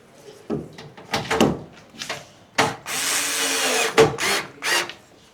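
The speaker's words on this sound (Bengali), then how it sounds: "আমরা জাস্ট শুধু চারদিকের বোল্টগুলো টাইট দিয়ে দেব" Installation of a bladeless ceiling fan: bursts of a power tool tightening the mounting bolts, several short whirring runs and one longer sustained one, with knocks and handling clatter between them, close and loud.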